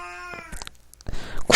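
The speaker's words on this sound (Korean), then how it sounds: "저 이제 고양이가 울고 있는데 이게 녹화에 방해가 되네요." A house cat meows loudly and close by, a drawn-out harmonic cry followed by shorter calls and a burst of noise at the end.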